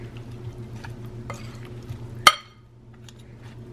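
A spoon stirs shrimp kabob marinade with soft scraping and swishing over a low hum, ending in one sharp metallic clink against the bowl before it goes quiet.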